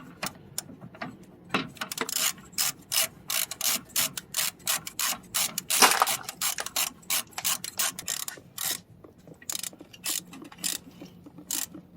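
Rapid ratchet clicks loosening the lower temperature sensor on a 2006-2011 Honda Civic during a thermostat replacement, close and crisp in quick repeated bursts with short pauses between strokes.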